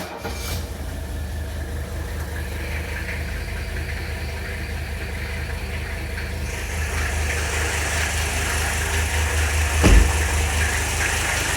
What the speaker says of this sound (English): Well, typical W126 clatter, but nice and smooth.